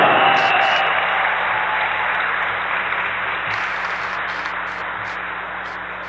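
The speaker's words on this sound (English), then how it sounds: "let's hear a great round of applause for Cal State LA's newest track and field national champion" A crowd in a Cal State LA gym at a men's basketball game applauds a new track and field national champion, a broad steady wash of clapping that starts loud and slowly fades over several seconds.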